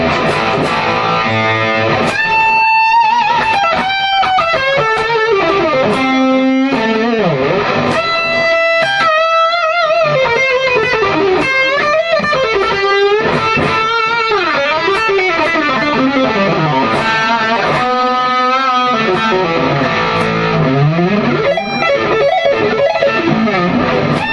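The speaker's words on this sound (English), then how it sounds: "I'll move on to overdrive 2, just to show you what the lead sounds like" A Gibson Les Paul Jimmy Page signature electric guitar, overdriven, plays a screaming lead line of bent, sustained notes, with delay echoes trailing behind. It is loud and continuous.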